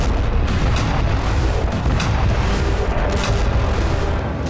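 Heavy bombing in Donetsk with FAB-500 500 kg bombs exploding, a continuous dense roar of distant blasts and rumbling booms with no talk.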